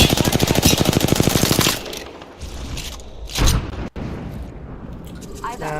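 Rapid automatic gunfire in the video game Apex Legends rattles loudly for almost two seconds, then gives way to scattered booms and impacts, with game voices over the action.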